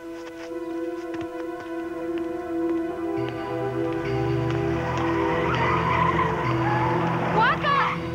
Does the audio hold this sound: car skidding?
yes